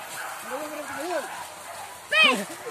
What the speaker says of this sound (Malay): Anjing ni.